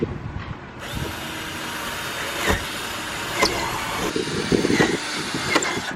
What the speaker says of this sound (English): the next step is to actually drill a hole that you're going to use to fit your jigsaw in